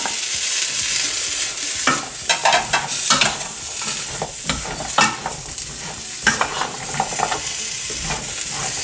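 A large sauce being stirred in a pot in a home kitchen, with repeated scraping and clinking strokes over a steady sizzle, close and fairly loud, with no talking.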